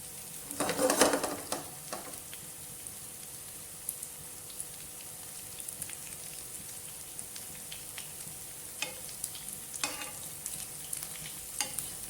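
Aloo tikki potato patties fry in a pan over moderate heat, giving a soft steady sizzle with a louder burst of crackling near the start and scattered small pops and utensil scrapes afterward, no talking.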